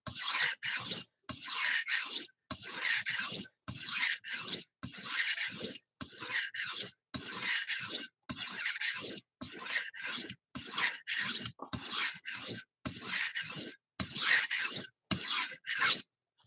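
A knife drawn across a sharpening stone, a steady series of about eighteen close, gritty rasping strokes in an even back-and-forth rhythm with brief pauses between each pass.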